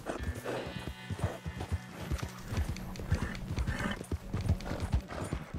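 Horse hooves clip-clop steadily at a walk with an occasional whinny, from a pony in the Red Dead Redemption 2 game set on Guarma, moderately close amid ambient game sounds.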